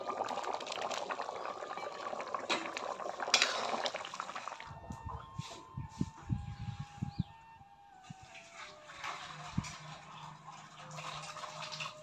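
A pot of potato curry with water and garam masala boiling: steady bubbling and liquid churning with watery splashes and a few knocks, close by with no voices.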